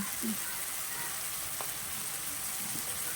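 Potatoes frying in oil for aloo dum, a vegetarian potato curry, give a steady, even sizzle that holds at a moderate level throughout, with faint background noise and no clear speech.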